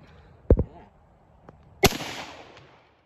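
Rifle fire outdoors from a Lee-Enfield SMLE or Ishapore 2A1, a sharp shot with a quick follow-up crack early on, then a second loud report trailing into a ringing echo.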